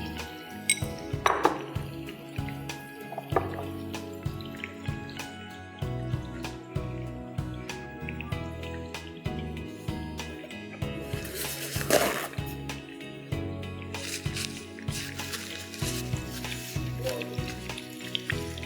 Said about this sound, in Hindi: ये चिकन हमारी फ्राई हो रही है।